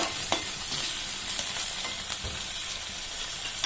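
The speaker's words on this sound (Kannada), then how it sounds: "ಫ್ರೈ ಮಾಡೋಣ." Potatoes for chilli potato fry in a pan with a steady, close sizzle. Occasional sharp scrapes and taps of a stirring spoon cut through it.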